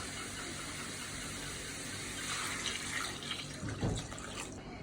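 Water pours steadily into a cooking pot of fried vegetable stems and potatoes, a continuous close splashing rush that swells briefly toward the end.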